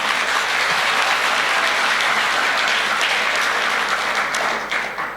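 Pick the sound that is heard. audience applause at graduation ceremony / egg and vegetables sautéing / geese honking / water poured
audience applause at graduation ceremony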